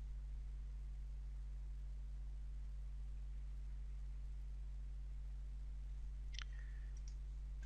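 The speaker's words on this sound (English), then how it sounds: "I'm going to right click on my Metamod and I'm going to extract all" A computer mouse gives a single faint click late in an otherwise quiet stretch, with only a soft background hiss around it.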